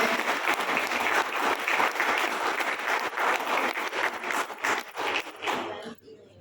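Loud applause from a crowd, dense clapping that holds steady for several seconds, then stops abruptly near the end.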